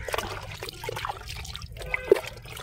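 Fermented homemade liquid fertilizer poured from a container onto garden plants, a close, steady trickling and splashing stream with a brief louder splash near the end.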